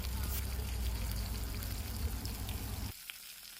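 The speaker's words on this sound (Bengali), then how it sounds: "আমরা সুরমা মাছের জাল ফ্রাই করতেছি, আই মিন কিংফিশের গ্রেভি করতেছি" Kingfish gravy cooks in a pan, giving a steady, close sizzle and bubbling that drops away sharply near the end.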